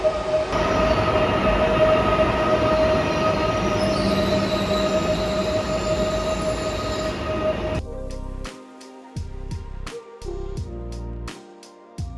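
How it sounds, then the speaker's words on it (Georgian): A Warsaw metro train rumbles and squeals steadily along the rails, loud and close, then slows with clattering wheel sounds and brief pauses. "ესეც ჩვენი მეტრო. მაგარია. ეს არის მეტრო."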